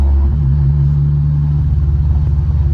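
A turbocharged Honda S2000 engine rumbles at low RPM with a rough, resonant throbbing drone, steady and close for a few seconds, no voices.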